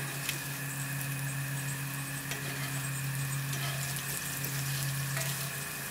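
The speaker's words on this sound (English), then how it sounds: "Got my bacon down now." Bacon sizzles steadily in a hot pan, a continuous close frying hiss with light crackle throughout, alongside a low steady hum.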